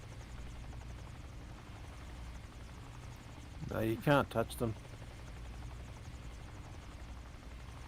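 Helicopters in a rotor flight simulator drone steadily throughout, a low continuous rotor hum beneath a brief burst of talking near the middle.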